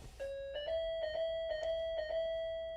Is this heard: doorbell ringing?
yes